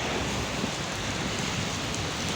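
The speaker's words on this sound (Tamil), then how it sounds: "மழை பேஞ்சிட்டு தான் இருக்குது சரியான மழை பெய்யுது செம்ம போடு போடுதுங்க" Heavy rain pours down in a dense, unbroken hiss that stays loud and even throughout, with no speech.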